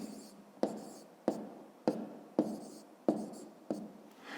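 A pen writes numbers on paper in short, repeated strokes, about seven crisp scratchy bursts at an even rhythm, close and fairly quiet with no speech.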